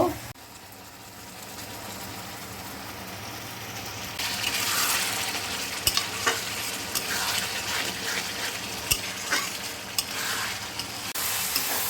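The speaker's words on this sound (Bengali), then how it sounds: "এবার আমি মশলাটাকে দিয়ে দেবো মশলা দিয়ে ভালো করে কষে নেব" Spice paste being fried and stirred with taro in a pan for a fish curry, a steady sizzle that swells louder midway, with occasional scrapes and knocks of the spoon.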